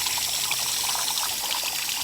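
Water flushes through the cooling system of a Thorneycroft BMC 1.8 marine engine. It makes a steady, close rushing and trickling wash for two seconds, with no voices.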